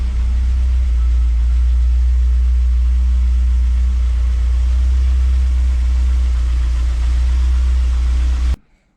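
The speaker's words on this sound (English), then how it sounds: "So I've had the engine running probably for about 3/4 of an hour." A car engine fitted with a Chinese aluminium radiator idles with a steady, loud low rumble that runs unbroken before cutting off abruptly at the end.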